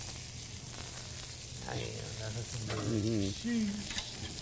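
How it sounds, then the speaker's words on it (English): A steak sizzles on a hot grill, a steady frying hiss with a person talking over it. "So we're just gonna cook this steak."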